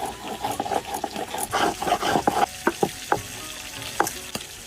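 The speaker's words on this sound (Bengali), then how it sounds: "আমি বাকি মাছগুলো ভাজে নেই।" Remaining pieces of pangas fish fry in hot oil, giving a steady close sizzle broken by several sharp crackles and spatters toward the end, with no voices.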